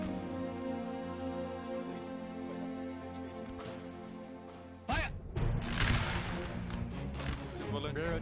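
Musket volley in a linebattle video game: one sudden loud crash of many muskets firing together, followed by lingering crackle and rumble, after a stretch of steady background game ambience.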